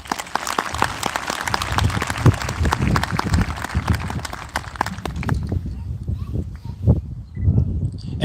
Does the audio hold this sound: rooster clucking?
no